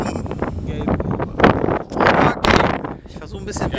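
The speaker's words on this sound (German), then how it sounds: "der Wind hat zugenommen." Strong gusts of wind buffet the microphone outdoors on a trip to the coast at Hooksiel, roaring in loud uneven bursts with low rumbling thumps.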